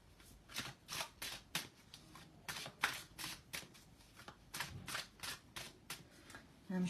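Tarot cards being shuffled by hand, a rapid run of crisp riffling bursts in an uneven rhythm, close and fairly quiet, with no talking.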